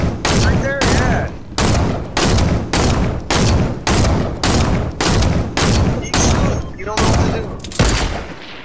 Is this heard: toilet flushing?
no